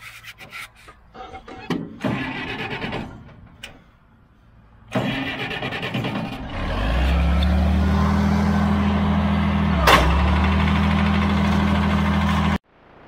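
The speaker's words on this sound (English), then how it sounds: "I'm going to start the blower" A farm forage blower starts up during corn chopping: scattered clanks and rubbing noises, then the engine cranks, catches and settles into a loud steady drone with a sharp knock partway through before cutting off.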